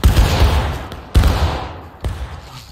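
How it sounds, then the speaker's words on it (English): Musket volleys crack out in the Civil War video game War of Rights, three loud, close rippling bursts about a second apart, each followed by a rolling decay. "Take aim, we're at their side again. Aim low, steady, fire!"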